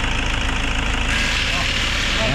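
A 2011 Toyota Fortuner engine idles steadily at close range as it is sprayed and cleaned during servicing, a low continuous rumble with some spray hiss, while people talk over it.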